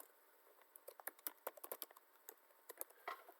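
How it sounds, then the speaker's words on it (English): Fast typing on a computer keyboard, a dense patter of light key clicks in uneven bursts, close and fairly quiet against a faint steady hiss. "I'm typing."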